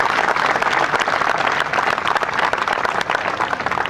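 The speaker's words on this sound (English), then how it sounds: "Give him a round of applause for all the work that he's been able to do." A crowd applauds steadily for a Parks Commissioner at a Brooklyn event: dense, continuous clapping at a loud, even level throughout, with no voices standing out.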